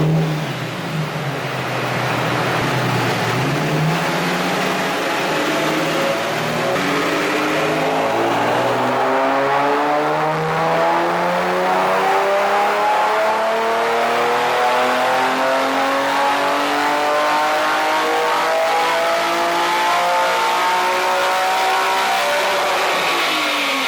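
Infiniti G37 on a dyno for a baseline pull with no tune, its engine revving steadily upward through the gears in one long, loud, continuous climb, close by, with no talking.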